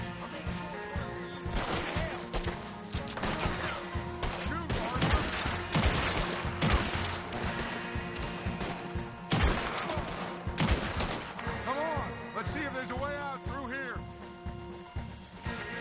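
Gunfire rattles through a shootout in the video game Red Dead Redemption 2, with dense overlapping shots, bursts and sharp impacts throughout and character voices speaking over the loud, chaotic battle.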